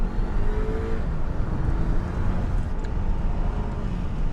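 An all-wheel-drive Audi A3 2.0 TFSI accelerates hard with a steady, dense, low engine roar that holds for several seconds without talk.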